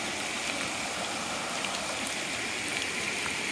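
A flooded rain ditch at a homesite carries water in a steady, even rush of broadband flow that stays constant throughout, with no voices over it.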